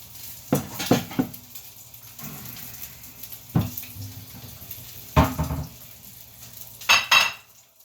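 Dishes clatter in a kitchen after eggs and bacon are cooked: a few sharp clinks and knocks of crockery and utensils in separate bursts, close by, with a faint running-water wash between them and no talk.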